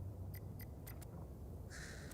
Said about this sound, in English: I could have sworn I just heard a crow.